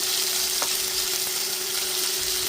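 Onion, garlic and spices fry in hot oil while being stirred, producing a dense, continuous close sizzle with a faint steady hum underneath and a light scrape now and then; no voices.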